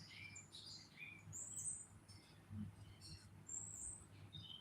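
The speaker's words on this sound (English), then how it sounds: "Listen to the birds." Birds sing outdoors, faint high chirps and short trilled calls scattered across the clip over low background noise.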